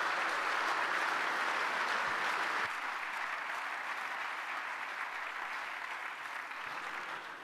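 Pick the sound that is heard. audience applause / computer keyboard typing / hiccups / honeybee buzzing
audience applause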